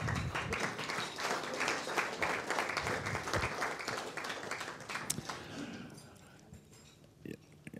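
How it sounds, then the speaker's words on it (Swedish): Audience applause at a jazz club anniversary gathering, steady clapping from a room of listeners lasting several seconds before thinning out and fading to scattered claps near the end. "Du får en applåd."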